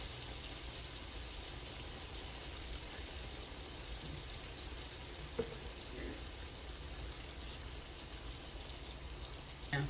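Food sizzles and crackles steadily in a frying pan while being stirred, with a few faint scrapes and clinks over a constant hiss.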